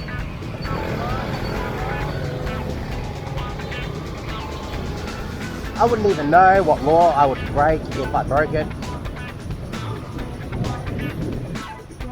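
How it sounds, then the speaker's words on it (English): Vietnamese street traffic heard from a moving motorbike: a steady road and engine rumble with bursts of nearby horns midway, under someone talking throughout. "Oh man, Vietnamese traffic sucks."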